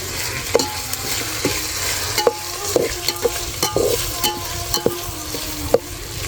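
Potato and chili tipped into a pan of onion and cumin frying in oil, giving a steady close sizzle with repeated sharp clinks and scrapes of a stirring spoon.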